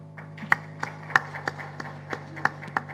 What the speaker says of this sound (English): Haroon sir, we are clapping for you on your, congratulating you on your recent promotion.